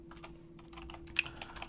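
Fingers tap a computer keyboard in a quiet, irregular run of soft clicks, with a slightly harder keystroke near the end, under a steady low hum.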